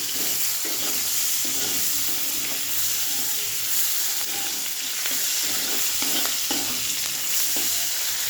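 Sizzling oil in a pan, left over from frying fish, with onion cooking in it, gives a steady, close frying hiss with faint stirring clatter and no talking throughout.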